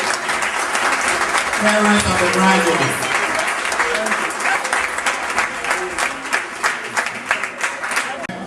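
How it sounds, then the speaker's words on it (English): A crowd applauds at a graduation ceremony, sustained clapping that swells then thins into scattered claps, while a voice speaks over it. "Please rise and join me to give a big round of applause to Mr."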